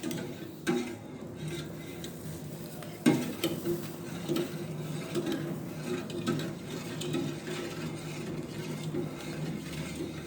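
Powder is stirred into hot milk in a pan for jelly, with a spoon scraping and clinking steadily against the metal over a faint simmer. Two sharper knocks stand out, and the whole sound stays fairly quiet and close.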